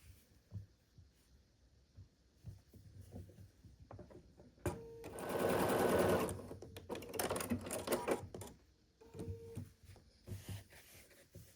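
A sewing machine stitching quilt pumpkin strips together, with a steady mechanical whir rising for a few seconds before easing off, and softer handling taps and rustles around it.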